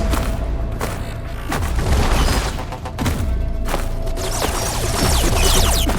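A Spectre machine opens fire in the video game Horizon Forbidden West, with heavy booming blasts and rattling bursts rolling over a low rumbling bed, loud and continuous across the stretch.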